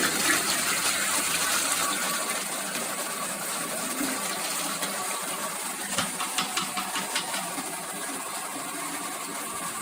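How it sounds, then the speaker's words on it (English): A toilet in a washroom flushes with a rushing gush of water while a cleaning brush is held under the flow, the surge easing into a steady refill trickle with a few splashes. "we flush the toilet and we'll hold the actual brush under the flush to clean it out"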